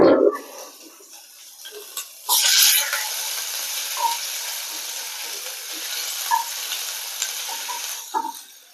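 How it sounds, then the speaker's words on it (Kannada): Finely chopped ginger and garlic fry in two spoons of oil for baby corn Manchurian, with a bright sizzle that flares as they hit the pan, then softer frying with occasional clinks of a spoon against the pan. "2 ಸ್ಪೂನು ಎಣ್ಣೆ, ಶುಂಠಿ ಮತ್ತು ಬೆಳ್ಳುಳ್ಳಿ ಎರಡು ಸಣ್ಣ ಸಣ್ಣದಾಗಿ ಕಟ್ ಮಾಡ್ಕೊಂಡಿದ್ದೀನಿ, ಅದಾಕ್ತಾ ಇದ್ದೀನಿ"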